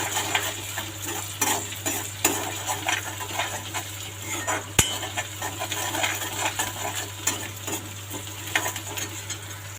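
Onion and green chilies frying in a pan for spine gourd bhaji, with a constant sizzle under repeated metal spatula scrapes and clinks against the pan, close and steady.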